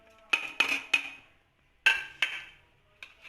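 Spices being mixed into a chicken pakora marinade with ginger garlic paste, heard as a handful of sharp clinks and scrapes of a utensil against a bowl. They come in two close clusters separated by a short pause, with no talking.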